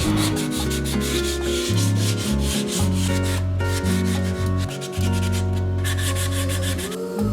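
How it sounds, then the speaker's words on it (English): Filler primer on a handmade prop weapon is wet sanded with high-grit sandpaper to remove orange peel. Rhythmic back-and-forth rubbing strokes repeat steadily and close up over a low, droning background, with no voices. "I'll wet sand all the orange peel off the primer using a high grit sandpaper."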